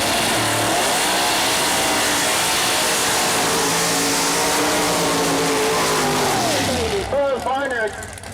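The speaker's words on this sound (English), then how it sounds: "Holding that burnout way out there." A Pro Mod door-slammer drag car holds a long burnout at Mooresville Dragway, its engine screaming steadily at high revs before easing off and rocking to a stop, with voices talking near the end.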